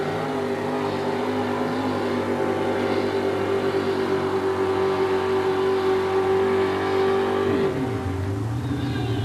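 A 1967 GMC truck with a 431 engine at full throttle during a USHRA event in Oakland, a loud sustained roar with a steady harmonic drone that drops in pitch near the end as the throttle eases.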